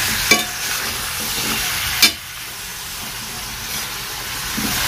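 Broccoli, carrots and chayote stir-fried together for chop suey, a loud, steady sizzle with a few sharp clatters of the spatula against the pan.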